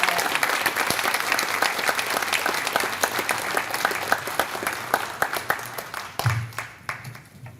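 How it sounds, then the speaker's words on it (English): An audience at a community awards banquet applauds warmly for honored educators, steady clapping from a crowd that gradually thins out and fades near the end. "another round of applause for these fabulous educators"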